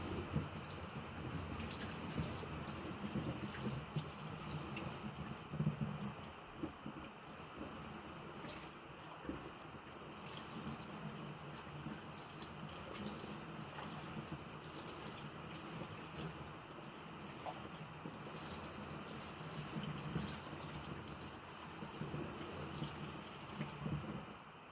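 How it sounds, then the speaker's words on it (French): Hot tap water runs steadily over felted slippers being rinsed, a continuous rushing splash with small shifts as the wool is moved under the stream. "On vient rincer à l'eau chaude du robinet."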